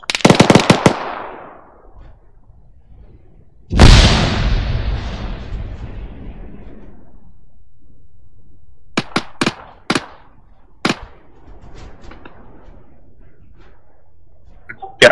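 A frag grenade blasts in a booming explosion with a long rumbling decay in the ARMA 3 military game. A burst of rifle fire comes before it, and several sharp distant gunshots follow. No talking is heard.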